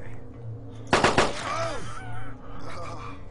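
A short burst of two or three rapid gunshots cracks out close by in the game DayZ, followed by a groaning voice and faint background game ambience.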